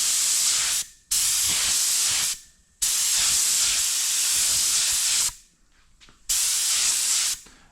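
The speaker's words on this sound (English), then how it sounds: "We got another mystery color loaded up in our spray gun here." A paint spray gun hisses in three long bursts separated by short pauses, a loud close airy spray that cuts off abruptly each time.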